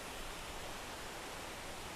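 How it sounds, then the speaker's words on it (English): Waterfall in steep mountain terrain along Highway 20, a steady broadband rush of falling water that holds even and continuous throughout, with no voices. "the sound of the waterfall is tempting"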